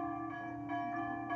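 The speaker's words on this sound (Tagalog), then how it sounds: "rinig na rinig nyo yung tunog ng kampana mga Pinoy." Church bell ringing from a nearby church, sustained tonal strokes with rich ringing overtones, struck repeatedly about every third of a second and decaying between strikes.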